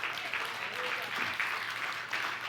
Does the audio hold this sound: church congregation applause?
yes